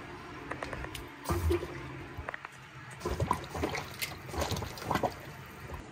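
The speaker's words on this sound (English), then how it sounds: "turn the cold water back on and push some water in from the top" Water rushing and trickling into a home water heater tank as the cold supply is turned back on to refill it after flushing, a steady hollow flow with irregular splashes and gurgles up close.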